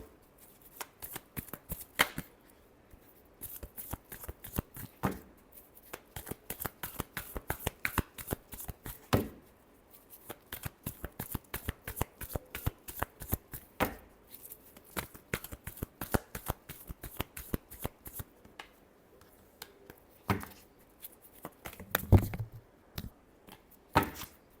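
A deck of tarot cards is shuffled by hand at close range, with long runs of rapid crisp riffling clicks broken by short pauses and occasional soft taps.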